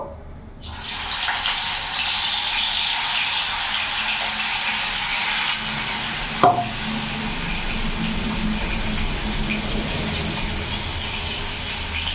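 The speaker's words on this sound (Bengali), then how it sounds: "তেল গরম হয়ে গেছে, এবার এক এক করে আমি মাছগুলো ছেড়ে দেবো।" Mrigal fish slides into hot oil and sets off a loud, steady hissing sizzle that starts abruptly and keeps going, broken once by a sharp clank midway through.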